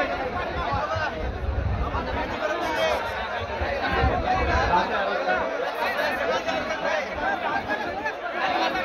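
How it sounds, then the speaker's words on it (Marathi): Dense crowd chatter at a hunger strike gathering, many overlapping voices forming a loud continuous babble, with no single voice standing out clearly. "आपण गर्दी केली"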